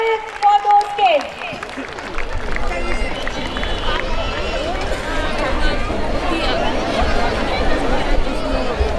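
Audience applause and crowd noise at a school annual day event, rising into a sustained, dense wash of clapping and chatter after a short stretch of music.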